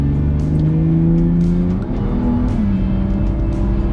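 A car engine accelerates hard around the Sepang race circuit, a loud close roar with rising and shifting engine pitch and a brief dip between gears.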